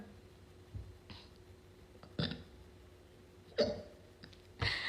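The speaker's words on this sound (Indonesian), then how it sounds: "Aduh aku ceguken." A person hiccups during a TikTok live stream, with four short, sharp hiccups spaced unevenly over a few seconds and a softer catch between them, close and fairly quiet.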